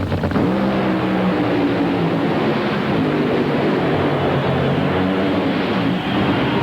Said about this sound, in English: A pair of Pontiacs, Western Auto Parts America and Haviland, the sponsors on the side of Al Hoffman's car